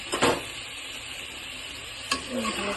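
A spoon stirs boiled potatoes into a sizzling spice masala on a flat roti griddle, two sharp scraping strokes against the pan over a steady frying hiss.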